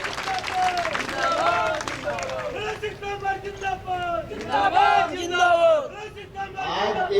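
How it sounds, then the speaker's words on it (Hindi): A crowd at a foundation-stone ceremony for a horticulture college in Morena claps and cheers in welcome, loud shouting and chanting voices rising in waves over scattered applause throughout. "जोरदार तालियों के साथ हम सब लोग स्वागत करें।"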